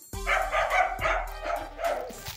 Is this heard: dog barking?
yes